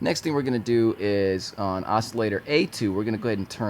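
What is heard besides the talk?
No everyday noise stands out behind the speech.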